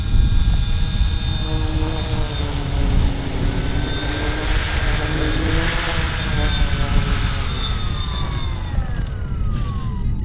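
An FMS P-47 Razorback 1500 mm RC model warplane on its maiden flight drones steadily and loudly overhead, with a rising and falling pitch and a Doppler-like sweep as it passes.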